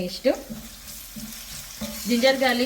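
Onions roasting in a pan for gongura chicken curry, a soft intermittent sizzle and stirring scrape, close and fairly quiet, with brief pauses between stirs.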